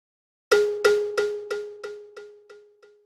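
A single percussive hit, cowbell-like, run through a delay effect with feedback, producing a series of about eight evenly spaced repeats that gradually fade away over three seconds, with no talking.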